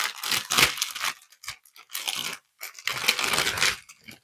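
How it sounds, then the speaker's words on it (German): Plastic bag packaging around embroidery yarn from a cross-stitch kit crinkles close up in several loud, bursty rustling bouts separated by short pauses, with no talking. "Entschuldigt das Knistern."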